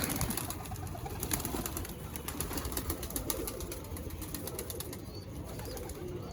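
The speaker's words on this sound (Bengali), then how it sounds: "এই যে ঘন্টু পায়রা ঢোকাচ্ছে" Pigeons shuffling and cooing as they are herded into their loft, a steady busy rustle of wings and soft calls with no talk.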